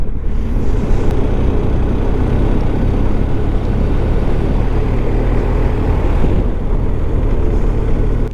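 A motorcycle cruises along the A82 beside Loch Lomond in Scotland, producing a loud, continuous engine rumble mixed with wind roar. The sound dips briefly near the end and no voices are heard.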